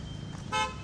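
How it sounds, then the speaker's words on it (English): A police car's horn honks once in a short, fairly loud burst on a street in India, standing out over low traffic rumble. "got some cops honking at us"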